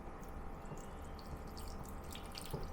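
Half broth and half water pours steadily into a pot for Hainanese chicken rice, a continuous splashing, gurgling stream close to the microphone.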